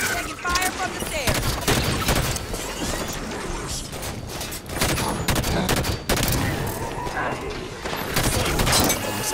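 Turret gunfire in the Halo 5: Guardians video game: dense, continuous bursts of rapid automatic fire with crashing impacts and mechanical clatter, loud and close throughout, with voices faintly under it.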